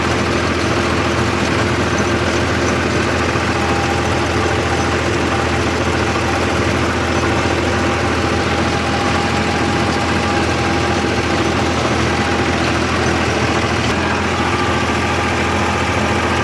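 Tractor diesel engine running steadily in creeper gear on a farm field, a continuous loud low rumble and drone with constant vibration and no pauses, close up and without speech.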